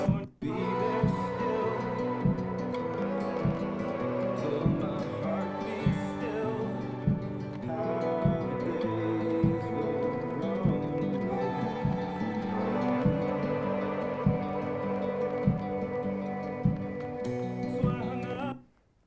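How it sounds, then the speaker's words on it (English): A synth pad pulses with a rhythmic pumping swell from sidechain compression, ducking in time with a steady kick beat throughout a dense electronic track. "you get a pumping sound in the instrument where the sidechain compression has been applied"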